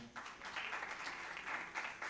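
A short burst of applause from a conference audience greeting a speaker, steady clapping throughout that begins abruptly and stays fairly even.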